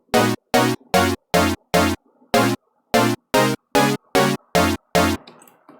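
An FM synth chord pluck made in Sytrus, with filter and modulation settings: twelve short, bright chord stabs in a fairly even rhythm, each cut off cleanly, with a brief gap partway through.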